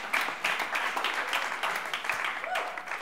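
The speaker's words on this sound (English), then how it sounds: "Can we just give Roth a round of applause?" A church congregation at a Sunday service claps for Roth, the barefoot worship leader, a brisk, even round of applause close by with a voice speaking over part of it.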